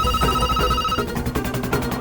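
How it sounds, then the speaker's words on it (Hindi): A telephone rings in a home, a steady electronic ringtone that repeats over a dense background of music and ambient sound, fairly loud throughout with no speech. "कभी कोई घर आ रहा है तो कभी फोन बज रहा है।"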